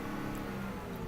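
Stock 2016 Ford F-150 pickup truck engine given a little gas, a brief steady rev with a low rumbling tone, close and continuous.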